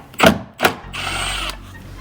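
A power tool with a 10mm socket spins a nut off the undertray of a Porsche 718 in two short whirring bursts, then runs in a longer steady whine, close and loud.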